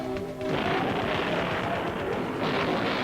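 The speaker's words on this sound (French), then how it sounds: "Soudain, des explosions illuminèrent la nuit." Dense, rumbling explosions roll continuously through a dramatized story scene, a loud, sustained blast texture with no pause.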